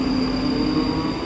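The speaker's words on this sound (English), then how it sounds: "is off with a 1038 ScotRail service to Helensburgh Central." A ScotRail class 334 electric train pulls away from the platform at Edinburgh Park station with a loud, close, continuous rumble and a steady motor whine, and no voices.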